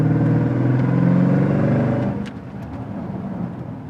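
A Jeep Grand Cherokee Trackhawk with its stock intake pulls under moderate acceleration, a close, loud, droning engine rumble that eases off after about two seconds into a lower, steady run.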